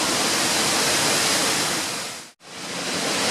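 Victoria Falls on the Zambia–Zimbabwe border roars as a broad, constant wash of falling water, loud and unbroken apart from one brief cut.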